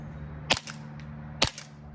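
Two muffled pops from a USHOT TP22 airsoft pistol shooting BBs on propane in semi-auto, each a short dull crack with a faint echo, about a second apart over a steady low hum.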